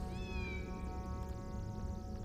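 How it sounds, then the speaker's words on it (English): A kitten character in the PSone Harry Potter and the Philosopher's Stone game gives a single bright meow that falls in pitch, over a steady layer of game music and background hum. "Oh, stop meowing."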